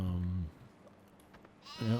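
Sheep in Farming Simulator 2015 let out two loud, near bleats, one at the start and one at the end, with quiet game ambience and a faint voice between them.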